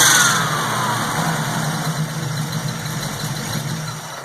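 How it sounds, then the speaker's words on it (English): A car engine fitted with a freshly installed Holley carburetor idles steadily and close by, a smooth, even hum that continues with no voices. "So when we do that, it comes right down, it idles nice."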